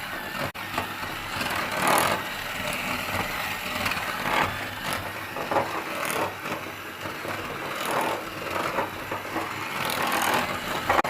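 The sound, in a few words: electric mixing machine beating butter, sugar and egg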